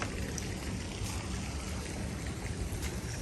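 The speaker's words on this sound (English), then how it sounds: "Water being sprayed out of lines." Water spraying out of lines at a pond in a park, a continuous broadband splashing hiss, steady and fairly close, with no talk over it.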